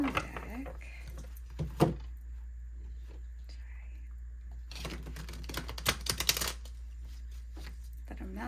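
A new tarot deck is shuffled by hand in soft, papery bursts of riffling and sliding cards, quiet and close, with a low background hum and a voice speaking between shuffles.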